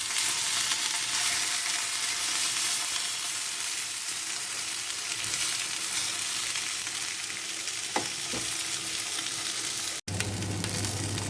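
Sausages sizzle and spit in a hot frying pan, a steady dense crackle near and loud throughout, with a brief clatter of turning near the end.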